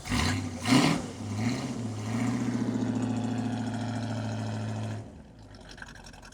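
A Chevrolet Camaro engine idling on a cold start with no choke, a steady low rumble after a brief revving surge, then cutting to near quiet at the end.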